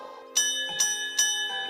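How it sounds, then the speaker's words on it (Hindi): A temple bell near a village rings three times in even succession, each bright metallic strike leaving a long shimmering ring that overlaps the next, heard alone. "ये घंटी किसी मंदिर की घंटी जैसी सुनाई देती है।"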